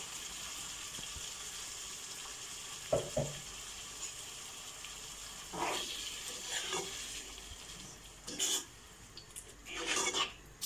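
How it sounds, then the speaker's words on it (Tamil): Water hits a hot pan of chicken gravy and sizzles in several short, bright bursts. The bursts come separated by quieter stretches and occasional utensil clinks. "இப்போ கொஞ்சம் தண்ணியை சேர்த்துக்கலாம்."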